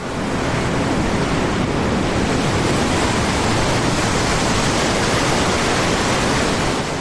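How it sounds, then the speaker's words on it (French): Heavy waves crash against the hull of a cruise ship in a stormy Baltic Sea, a loud, unbroken roar of surf and rushing water with wind mixed in, close and constant throughout. "Les vagues claquent contre le flanc du paquebot"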